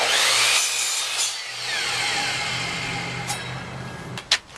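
A saw cuts through 1x6 wood stock in a home workshop while building a curio shelf, a steady rasping buzz running continuously at close range before stopping with a couple of sharp knocks at the end.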